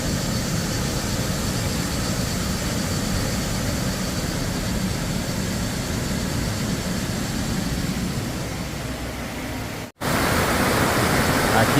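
Waterfall in a national park in Croatia, a loud, constant broadband roar of falling water heard up close, briefly cut off near the end before resuming.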